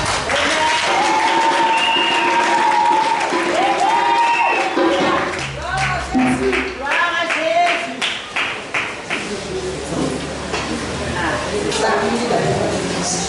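Congregation applauding during a French-language church service, steady clapping filling the room with broadband taps that loosen into a more scattered rhythm midway, voices murmuring underneath throughout.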